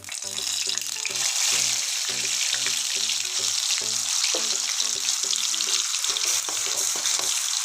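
Ginger garlic paste hitting hot oil as a gravy base, a loud steady sizzle close by, with a rhythmic series of low knocks and scrapes from stirring running through it.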